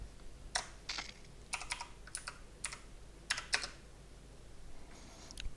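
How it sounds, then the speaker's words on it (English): Typing on a computer keyboard in short bursts of crisp keystrokes with pauses between groups, fairly close and quiet against a low steady hum, no voices. "can I type it all the way around then?"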